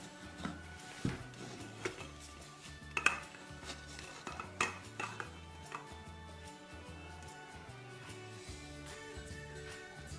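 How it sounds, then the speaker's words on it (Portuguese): A chocolate sponge cake is turned out of its baking pan onto a plate: a series of clunks, knocks and clatters of pan and plate, some sharp and close, over soft background music. "Agora eu vou desenformar e cortar ele com vocês"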